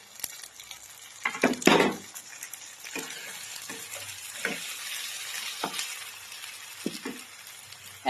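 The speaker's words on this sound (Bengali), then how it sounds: "এখন আমি দিয়ে দিচ্ছি শুকনো লঙ্কা, কাঁচা লঙ্কা, রসুন, আদা। ভাজা ভাজা হয়ে গেছে, এখন দিয়ে দিচ্ছি টমেটো।" Onion, dried and green chillies, garlic, ginger and tomato sizzle in a frying pan for chicken kosha, a steady close-up hiss broken by scraping stirs and occasional louder clinks of a spatula against the pan.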